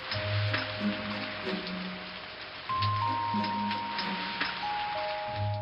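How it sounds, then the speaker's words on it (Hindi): Rain falls with a steady hiss and patter on a surface, continuous throughout, over a faint musical background. "इतने में बाहर बारिश शुरू हुई।"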